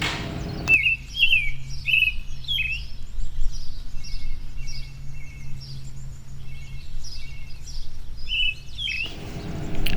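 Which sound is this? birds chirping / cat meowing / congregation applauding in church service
birds chirping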